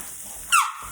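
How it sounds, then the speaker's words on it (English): Mushrooms hit a hot oiled pan with a sudden loud burst of sizzle and squeak that fades quickly, while making a Cajun seafood Alfredo. "I add the mushrooms. I'm gonna add some oil to this pan as well."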